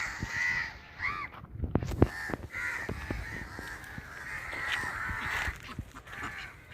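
Crows caw repeatedly nearby among mangrove islets where the Kallada River ends, harsh calls overlapping amid outdoor background noise and scattered clatter, with no one speaking.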